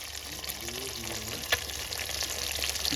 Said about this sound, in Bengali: ভোলা মাছ মা যা লাল লাল করে কড়া করে ভাজছে